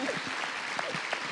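A seated audience at an Espace des Sciences Tuesday evening talk in France claps briefly, a short burst of scattered hand claps at moderate volume.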